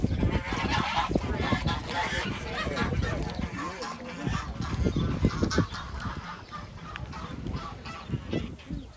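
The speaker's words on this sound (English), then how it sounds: "these are the Sebastopol geese" A flock of Sebastopol geese honking loudly and continuously on a farm, overlapping calls close by with no pauses.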